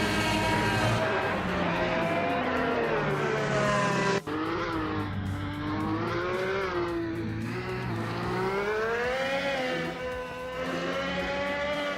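Several race cars roar and overtake one another in a racing video game, engines revving loudly and continuously with shifting pitch, one car's note rising over another's.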